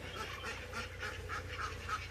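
Ducks quack in a rapid, repeated series of nasal calls close by, with a low hum underneath.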